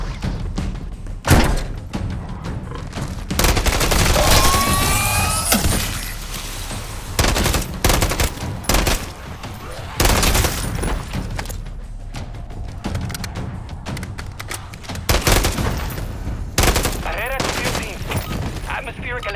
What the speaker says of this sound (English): Launch, strike team, and lay down some cover fire.